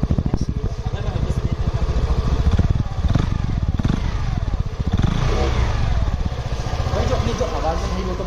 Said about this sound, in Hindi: एक बार सुनाते हैं भाई इसकी एग्जॉस्ट के साउंड अपनी देखने को कैसे मिलती है।